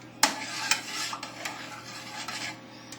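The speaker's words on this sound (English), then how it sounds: "Stir it up a little bit" A spoon stirs potato soup in a pot on a switched-off stove, giving a few soft scraping strokes and light clinks against the pot, quiet and close.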